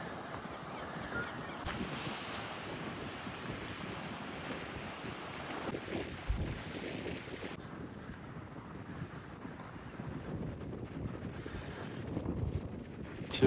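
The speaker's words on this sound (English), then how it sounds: "Quite a strong wind here." Strong wind buffets the microphone at a seaside harbour, a steady roaring rush with surf-like wash underneath, heavy throughout and with no speech.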